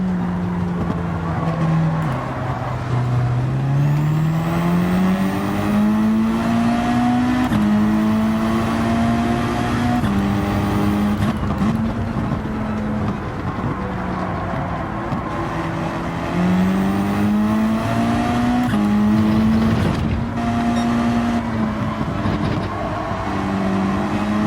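Race cars in the Gran Turismo video game, engines revving up and down in long sweeping pitch arcs as gears shift, with several cars droning together in a continuous, fairly loud pack.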